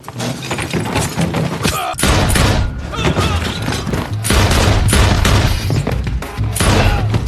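Film gunfight with a dense fusillade of gunfire and heavy booming impacts, loud and continuous throughout, layered over a dramatic score with faint voices.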